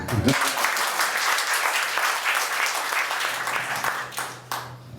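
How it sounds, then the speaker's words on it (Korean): Audience applause for the president at a political party gathering, a dense, steady wash of many hands clapping at moderate distance, sustained for several seconds before tapering off. "대통령께 박수 한번"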